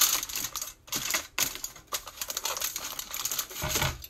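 Aluminum foil being crinkled and pressed into a pan for peanut butter fudge, a series of sharp crackling rustles in irregular bursts with short pauses between, close and fairly loud.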